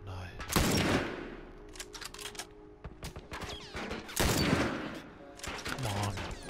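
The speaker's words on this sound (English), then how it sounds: "I told you earlier that they had a fucking machine gun, didn't I?" Machine gun fire in The Last of Us, loud rapid bursts near the start and again around the four-second mark, with scattered single shots between and a voice talking over the action.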